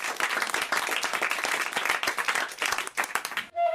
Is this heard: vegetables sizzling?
no